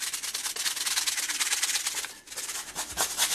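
Hands rubbing briskly together, a steady dry scraping friction that runs continuously with a brief pause, close and fairly loud with no talking.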